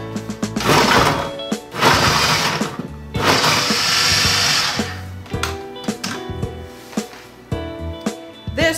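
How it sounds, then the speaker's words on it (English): A food processor mincing peeled, halved carrots and shallots, its motor whirring loud in several bursts with short pauses, the blade noise rattling and churning between pulses. "we're gonna process these until they're finely minced"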